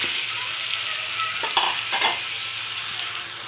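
Fish and chili hitting a hot frying pan give a steady, loud sizzle with a few stirring scrapes near the middle. No voices are heard.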